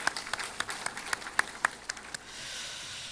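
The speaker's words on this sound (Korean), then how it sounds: "감사하는 마음으로 박수로 표하겠습니다." A church congregation during a Sunday morning service claps in thanks, with a sparse, rhythmic run of separate claps that fades out after about two seconds into quiet room tone.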